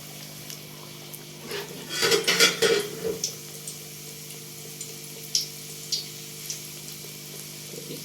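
Puri frying in hot oil in a kadhai for halwa puri: a burst of crackling sizzle swells for about a second, then settles into a low, steady hiss with occasional sharp pops, fairly close and with no voices.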